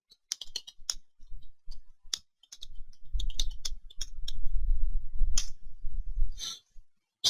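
A computer keyboard clatters with a steady stream of quick key clicks, close and distinct, while a new password is entered during a Windows Server 2012 R2 Core setup; a low hum rises underneath partway through.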